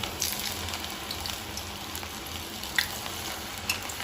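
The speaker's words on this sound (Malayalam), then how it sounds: "നമുക്കിനി ഓയിൽ വെച്ച് ഇത് വറുത്തെടുക്കണം" Steady crackling sizzle of cauliflower pieces for gobi manchurian frying in hot oil over a medium flame, close and continuous, with a couple of sharper pops.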